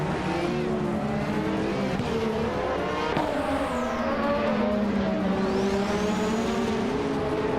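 Several vintage 1988 McLaren MP4/4 race cars in a racing video game roar off the start line together, a dense, continuous engine drone with rising and falling pitch sweeps and occasional whine, loud and steady throughout.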